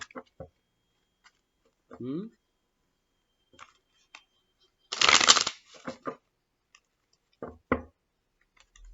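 A tarot card deck is shuffled in a brief loud riffle near the middle, with scattered light card taps and clicks around it and a voice speaking briefly.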